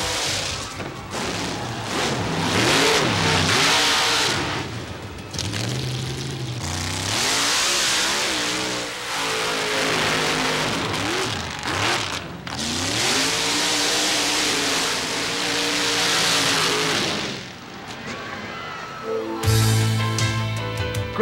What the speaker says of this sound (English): the Showdown, a Jeep with a 605 cubic inch mountain motor able to crank out